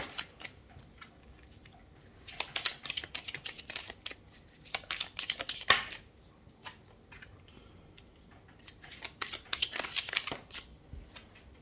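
Tarot cards are drawn and laid out in quiet, soft bursts of papery shuffling, snapping and sliding, spread across the reading with short pauses between handlings and no talking.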